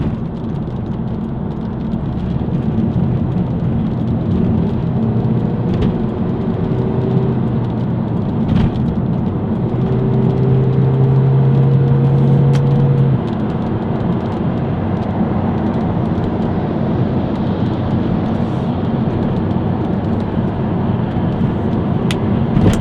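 Steady road traffic with cars and heavier vehicles rolling past at moderate distance, a continuous loud engine and tyre roar that swells as vehicles go by, with no talking.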